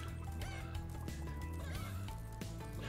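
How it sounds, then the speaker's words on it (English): Chickens in the video game Spyro Reignited Trilogy cluck and honk in repeated short bursts over a dense, loud bed of game music and background effects. "Hello, chickens."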